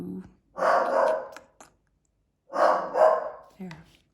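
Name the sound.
dog barking at dogs on TV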